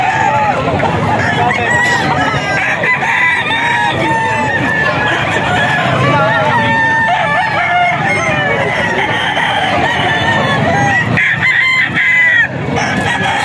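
SBR stag chickens at a poultry yard in Bulacan, with rooster crowing and clucking running dense and loud throughout, mixed with a busy background of other fowl and faint voices.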